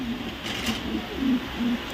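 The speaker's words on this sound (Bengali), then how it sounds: "এখানে আছে একটা বেস্ট কিটেল লাইনের পাইট কবুতর একটা নর কবুতর" A male Kitel-line pigeon coos indoors, making a few soft, low, throaty coos over a faint hiss of room noise.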